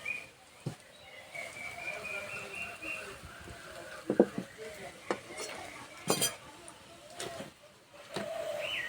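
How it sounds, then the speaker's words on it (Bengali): A kadai of mini semolina gulab jamun frying in oil is swirled by hand, giving a soft steady sizzle with scattered metallic clinks and knocks. "কড়াইটা ধরে এইভাবে একটু নাড়িয়ে দেব।"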